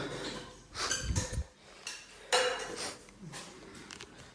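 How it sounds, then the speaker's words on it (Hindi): Small metal pots and utensils clink and clatter beside a small camping stove in a rainy outdoor rest stop, with several sharp knocks and scrapes at irregular intervals, close by and without talk. "छोटे छोटे बर्तन, छोटे छोटा स्टोव।"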